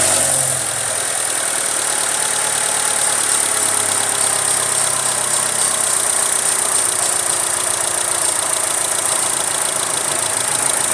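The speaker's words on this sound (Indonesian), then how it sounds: "Start engine." Car engine idling steadily during a battery cranking test, a continuous close mechanical hum with a high-pitched whine over it, running alone without speech.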